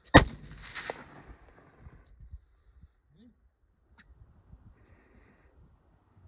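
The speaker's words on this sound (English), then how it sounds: "Shoot him." A single loud, sharp rifle shot cracks out while hunting rock chucks outdoors. Faint echoes and soft rustling follow in near quiet.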